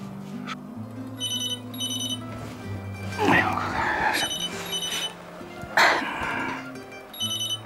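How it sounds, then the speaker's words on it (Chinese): An incoming call on a telephone rings in repeated short electronic bursts indoors, with a conversation between two people continuing over and between the rings. "谁打的呀？周局打电话。"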